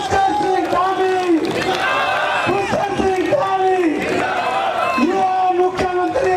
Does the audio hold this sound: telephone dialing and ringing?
no